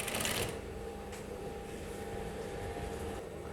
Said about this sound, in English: now we are sewing the down part